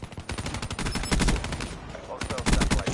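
Rapid automatic gunfire from a first-person shooter match in Black Ops 3, loud and continuous in dense bursts with a short pause before firing resumes, alongside some shotgun blasts.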